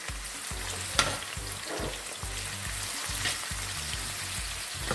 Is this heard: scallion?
yes